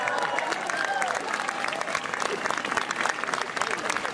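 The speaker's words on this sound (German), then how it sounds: "Ein Applaus an die Sonne." A large outdoor crowd applauds at the season opening of Europa-Park, a dense, steady roar of clapping that stays loud throughout with some voices mixed in.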